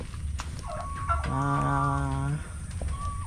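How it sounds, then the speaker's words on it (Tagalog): A turkey gobbles once, a loud warbling call, amid soft background clucks and rustling from nearby ducks and turkeys. "Tapos ayan na yung ating mga bibi, pabo ay naandito na uli."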